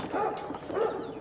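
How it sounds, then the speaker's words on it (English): A dog barks a few times outdoors near a house, the short barks close and fairly loud, with no talking over them. "What are you barking at?"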